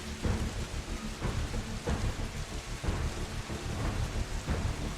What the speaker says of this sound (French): Le tonnerre sonne.